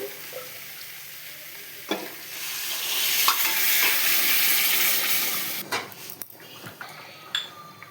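Hot water hits meat frying in a pan with spices, setting off a rising burst of hissing sizzle and steam along with stirring and the clink of a utensil against the pot, close by.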